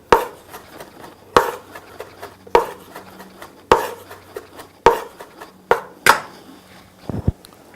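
Fresh rosemary is chopped with a knife on a cutting board in a kitchen, about seven sharp, evenly spaced knocks, then a quick double tap at the end, close and alone with no talking.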